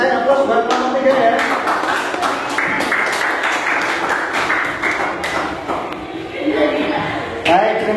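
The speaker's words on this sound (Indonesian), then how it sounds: "aplaus buat kelompok 3 ya" Classroom applause for a student group after finishing a hydrostatic pressure lab, a dense run of claps from many hands lasting several seconds with voices mixed in.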